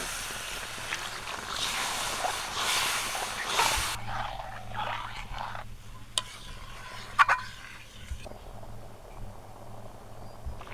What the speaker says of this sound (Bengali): আলুটা কষানো হয়ে গেছে এই যে আমি জলটা গরম করে রেখেছিলাম দিয়ে